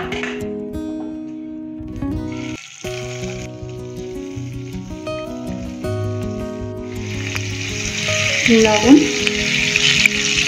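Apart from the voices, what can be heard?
paneer frying in oil and ghee with salt and chilli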